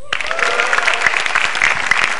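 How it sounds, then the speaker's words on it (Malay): A stand-up comedy audience applauds the earlier comedians, a loud, dense burst of clapping from a crowd close by, filling the whole moment with no voices over it. "Yang jelas tepuk tangan buat komik-komik sebelum saya."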